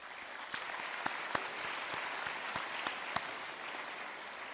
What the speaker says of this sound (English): We can maybe just give them a round of applause for that.